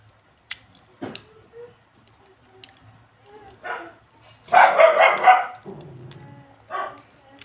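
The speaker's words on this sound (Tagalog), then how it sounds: "ingay talaga ng alaga akong aso dito" A dog barks a few times nearby, with a louder burst of barking in the middle amid quiet handling noises.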